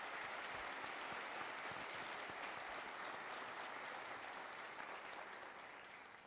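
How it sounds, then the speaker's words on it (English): Sustained applause from a large middle school ceremony crowd at an eighth grade moving-on event, a dense steady wash of many hands clapping that continues without pause and begins to taper only at the very end. "So let's give them a big round of applause."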